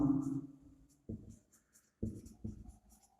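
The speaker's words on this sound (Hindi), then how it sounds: "तो यहाँ लिखेंगे अजीज स्कोर्ड मिनिमम" A pen scratching on paper while numbers are filled in on a data-handling exercise, heard as three or four short, dry strokes with brief pauses, close and fairly quiet, no talking over them.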